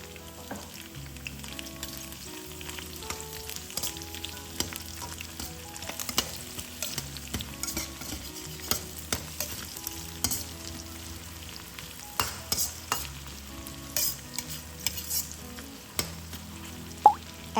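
Garlic, Thai chili and white scallion pieces fry in a wok with a soft, continuous crackle and scattered clicks of stirring, fairly quiet throughout.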